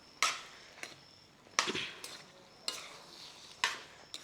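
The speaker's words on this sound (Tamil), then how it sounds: "நம்ம காளானை நல்லா பரட்டி விட்டுக்கலாம்." A spatula scrapes and stirs mushrooms in a pan in four or five distinct strokes, with a soft sizzle of frying underneath; no one speaks.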